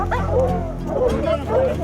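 Hunting dogs bark and yelp excitedly in a pack, with overlapping baying calls close by and voices faintly mixed underneath.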